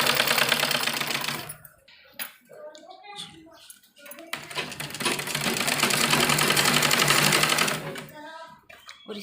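A sewing machine stitches the hem of palazzo pants, its rapid mechanical whir running in long bursts that start and stop, with someone speaking between runs.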